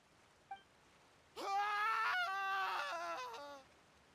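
A Genshin Impact character lets out a single drawn-out scream, thin and wavering, lasting about two seconds after a brief tick, alone over quiet game ambience.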